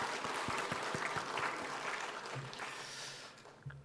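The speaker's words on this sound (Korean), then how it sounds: "그래서 오늘 예배는 그런 하나님 앞에 감사와 찬양의 박수 올려드리면서" A church congregation applauds together during a Korean Thanksgiving Sunday worship service, producing a dense, steady wash of clapping that holds for several seconds and slowly thins toward the end.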